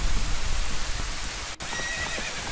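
A horse whinnies over a backdrop of steady rain in The Legend of Zelda: Ocarina of Time, with a brief break in the noise midway; no talking.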